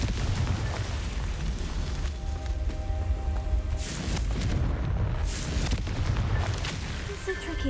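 A Confringo fire spell blasting in Hogwarts Legacy, a dense rumbling boom that swells and holds for several seconds, loud and continuous with a brief lull in the middle before surging again.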